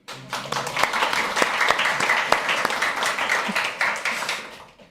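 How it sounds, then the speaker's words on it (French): A church congregation applauds, a dense, lively burst of clapping that swells quickly, holds steady, then fades away toward the end. "On peut applaudir, hein?"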